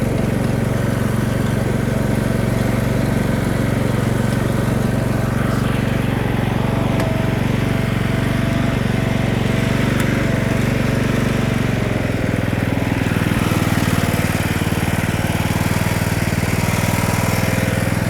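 A Craftsman LT3000 riding lawn mower engine idles steadily for the whole stretch, a constant close mechanical rumble with no voices.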